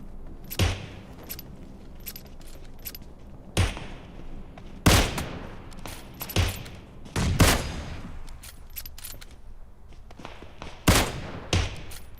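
Gunfire in a video game no-scope battle: sharp, loud single shots spaced irregularly, about eight of them, each a distinct crack standing out over quiet background.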